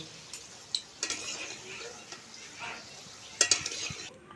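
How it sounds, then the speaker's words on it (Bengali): Fried palm sweets are lifted out of hot oil, with a soft ongoing sizzle, scattered clinks and scrapes of a metal utensil against the pan, and a louder clatter near the end. "এইবারে মিষ্টিগুলো তেল ঝরিয়ে আমি তুলে নেব"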